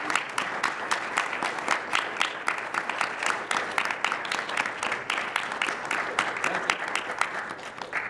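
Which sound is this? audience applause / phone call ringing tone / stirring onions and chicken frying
audience applause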